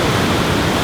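A dense, continuous roar of water at Victoria Falls in Zambia, a loud and broadband rush with no pauses or voices across a very short stretch.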